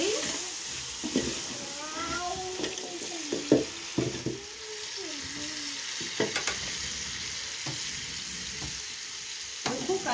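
Tomatoes sizzle and fry in a pot over a village cooking fire, with a utensil scraping and stirring in irregular strokes and occasional clinks, steady frying noise throughout.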